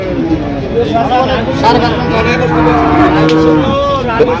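Household-raised cattle at a rural cattle market in Cumilla give repeated drawn-out moos that overlap constant nearby chatter and crowd babble.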